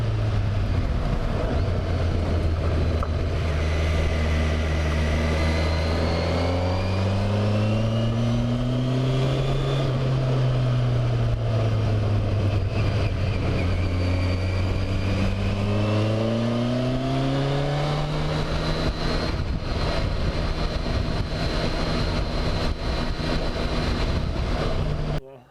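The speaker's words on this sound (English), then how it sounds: "I do get a little more response in the engine running it out like this" An inline-four car engine revs up and down in long, smooth sweeps while driving. The whine rises and falls steadily under constant wind and road noise, and no voices are heard.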